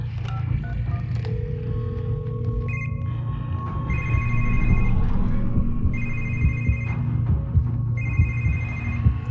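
An office telephone rings in The Evil Within: The Assignment, a horror video game, with a repeating electronic ring pulsing at even intervals about four times over a low, throbbing rumble.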